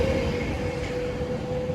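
A train runs near Stockport station, an Avanti West Coast stop, with a constant low rumble and a steady tonal hum that holds close and even for the whole short stretch.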